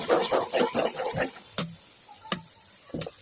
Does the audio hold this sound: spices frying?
yes